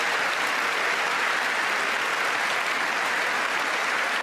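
Dense, sustained applause fills a NATO gathering, a large crowd clapping loudly and evenly throughout before cutting off abruptly at the end.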